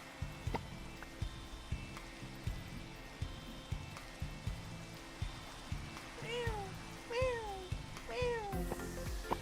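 A cat meows several times, short rising-falling calls in quick succession toward the end, over a steady ticking, dripping background like rain on a surface.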